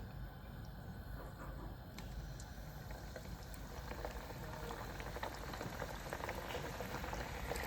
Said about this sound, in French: Je vais les mettre dans une huile bien chaude.